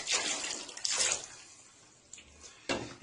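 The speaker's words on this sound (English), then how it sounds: "It's just water." Tap water runs and splashes in bursts while a cat is bathed, with short gushes that fade in and out, moderately close and without talk.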